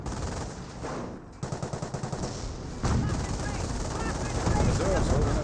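Rapid gunfire in Company of Heroes 1, a World War II strategy game, with a quick run of evenly spaced shots followed by a sustained battle din. A voice talks over parts of it.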